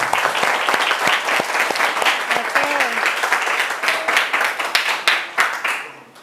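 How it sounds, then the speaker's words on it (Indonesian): A school class claps for a student group, and the separate hand claps of a modest crowd come through in an uneven, lively patter that fades toward the end. Faint voices sound briefly beneath the clapping. "Wah, Dimas, tepuk tangan dulu untuk kelompok 4 ya"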